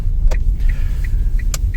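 A Nissan Leaf electric car spins its wheels on the first snow, producing a low, churning rumble broken by short, repeated whirring chirps and sharp clicks as the traction control cuts in and out.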